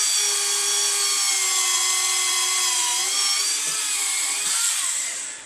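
A small drill bores tiny holes in a plastic model part, giving one continuous high, steady whine close up that holds for several seconds before winding down.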